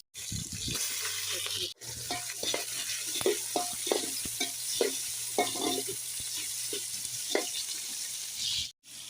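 Biryani whole spices and onion slices frying in hot oil for a festival meal, with a constant close sizzle, clinking and scraping stirs in an irregular rhythm, and a low background hum.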